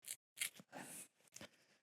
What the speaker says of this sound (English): So I'm going to go ahead and cut it.